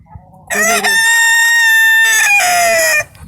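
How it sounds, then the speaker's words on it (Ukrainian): A black Chinese Lukendanji rooster lets out one loud, close crow that lasts about two and a half seconds. Brief clucking sounds just before and after the crow. "Хочу показати своїх китайських курочок. Ну, Верніше півника і курочку."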